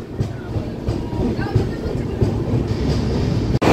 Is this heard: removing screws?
no